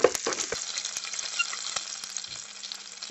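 Cumin seeds and chopped green chillies sizzle in hot oil as a tempering for sabudana khichdi, a steady close crackle with a few sharper pops and stirring clicks, no talking.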